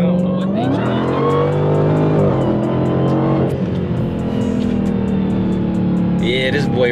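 Close, loud engine roar of a Corvette C8 or Redeye Hellcat accelerating hard with rear tires spinning, pitch climbing and shifting, while people talk over it.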